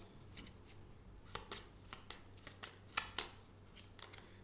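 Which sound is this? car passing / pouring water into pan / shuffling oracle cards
shuffling oracle cards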